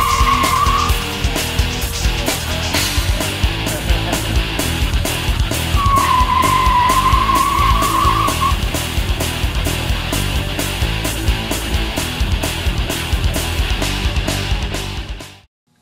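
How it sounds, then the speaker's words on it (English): DC motor of an electric S10 pickup conversion runs steadily and loudly, a whining tone that wavers and rises over a regular pulsing rhythm before cutting off abruptly at the end. "We have a DC motor in place in this particular vehicle."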